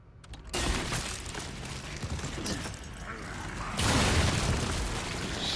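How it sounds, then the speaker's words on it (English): A grenade goes off in Resident Evil 4 Remake during a fight with Novistadors in the ballroom: a loud, broad blast lands early, then a second heavy burst of noise and debris hits near the end, over constant game noise. "I'm gonna use a grenade."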